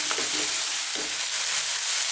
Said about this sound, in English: Then we're going to cook this again on this high heat, 2 to 3 more minutes,